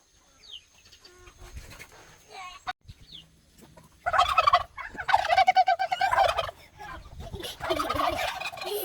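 Turkeys gobble on a farm early in the morning with chickens close by, giving bursts of loud, rapid warbling gobbles after a quieter stretch of scattered clucks and bird calls.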